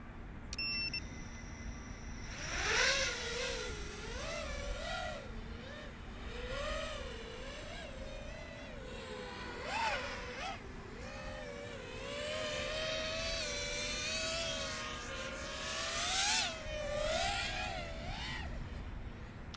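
An LDARC KK 5GT FPV racing drone with 2306 motors flies continuously, its whining motor pitch rising and falling steadily as throttle changes, with short beeps at the start and no talking.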